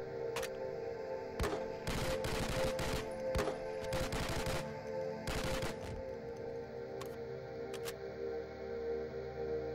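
M4 rifle firing in the video game Operation Black Mesa, sharp bursts of automatic fire separated by short pauses over a steady background hum, fairly close and crisp.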